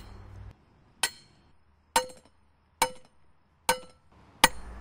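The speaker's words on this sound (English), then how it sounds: "the driver head is now used to hammer the rod completely into the ground" A ground rod driver head strikes a metal ground rod being driven into the ground, giving five sharp metallic clanks spaced roughly a second apart, each ringing briefly, with quiet between.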